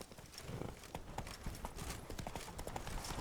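Horse hooves clip-clop steadily at a walking pace in The Witcher 3 video game, close and continuous over ambient game sound, with faint voices in the background.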